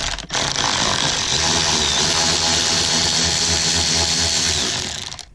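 A power tool drives out a bolt on a truck's tow mirror mount during a Duramax mirror install, a loud, steady mechanical whir running for about five seconds before winding down, with no talking.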